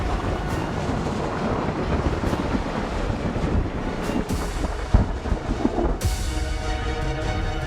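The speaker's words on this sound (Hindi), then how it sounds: "आसमान में कड़कड़ाती बिजली" Thunder from lightning crackling across the sky: a loud, continuous rumbling roar with rough crackle, broken by sharper bursts toward the end.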